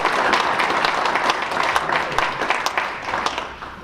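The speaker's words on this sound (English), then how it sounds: "Please give them a big round of applause." Audience applause for panelists at the Hearst Media Center, a dense, even patter of many hands clapping close by that tapers slightly toward the end.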